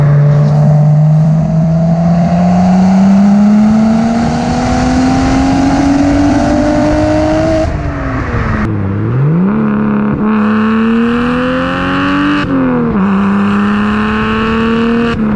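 A single turbo BMW N54 engine with a 3-inch resonated single-exit exhaust revs hard and loud up close, rising in pitch, dropping off, then climbing again in repeated throttle blips.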